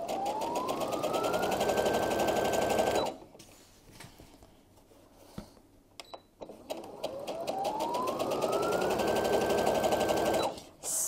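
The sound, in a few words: sewing machine stitching a French seam on a pillowcase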